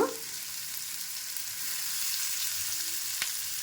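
Corn kernels frying in a pan with capsicum for cheesy white sauce pasta, a steady close sizzle running throughout with a faint tap near the end.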